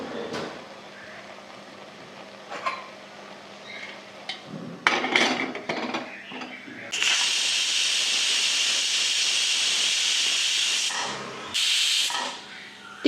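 A loud, sustained hiss of steam from a pressure cooker whistle, cooking colocasia leaf curry, runs for several seconds after some kitchen clatter, then cuts off and briefly returns.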